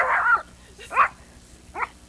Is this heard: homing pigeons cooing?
no